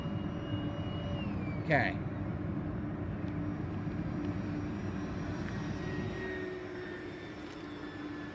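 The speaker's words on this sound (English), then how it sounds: "Here we go, full speed pass" A Hobbyking DH 100 Vampire MK 6 radio-controlled model jet makes a full-speed pass, a steady distant whooshing drone with a rising whistle, heard from the flying field while a voice briefly speaks.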